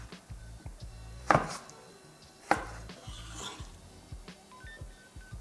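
Knife chopping curry paste ingredients on a board in a home kitchen: two sharp, distinct cuts stand out over a faint run of softer taps, close and fairly quiet.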